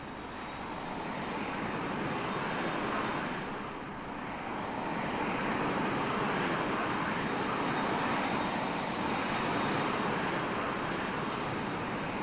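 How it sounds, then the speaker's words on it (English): Fokker F28 jet engines roar continuously in a flight simulator replay, a dense, steady broadband whine and rumble with slight swells, loud and close throughout. "Listen to those engines."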